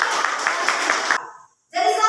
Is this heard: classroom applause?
yes